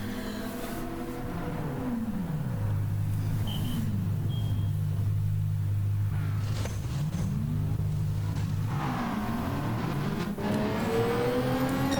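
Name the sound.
race car in pit stop, Gran Turismo 7 video game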